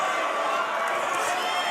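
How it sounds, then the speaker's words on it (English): A boxing crowd roars and cheers at Metro City in Perth, a dense, continuous wall of massed voices filling the room at steady loudness throughout. "Crowd going absolutely crazy here in Metro City in Perth"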